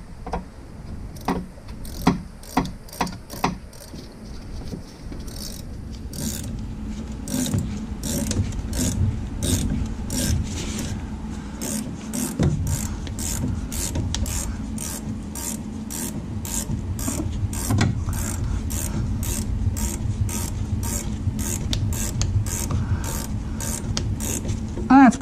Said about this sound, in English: we're gonna put this 14 millimeter wrench in here